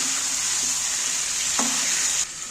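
Yogurt-marinated chicken being stirred in hot oil, a loud, even sizzle with a brief scrape of the spoon near the end.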